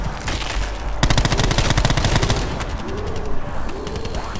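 Rapid automatic gunfire in Black Ops 4 Zombies, loud bursts of close shots in quick rhythm with brief pauses, game effects trailing after.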